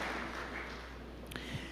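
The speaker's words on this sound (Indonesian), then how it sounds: "Berikan tepuk tangan yang meriah buat Tuhan." Church congregation clapping during a sermon, a faint, steady wash of applause heard from a distance, unbroken throughout.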